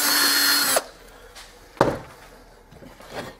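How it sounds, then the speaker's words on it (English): A power drill whirs steadily for under a second, driving into wood during the build of an LED sign, then stops and is followed by a few scattered knocks and clunks nearby. "Bump the camera with your drill"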